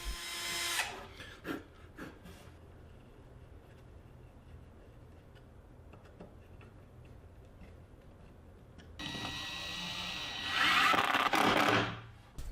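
A power drill bores and taps into a metal bench leg, heard as faint clicks and a quiet stretch followed by a loud, sustained whine of drilling near the end.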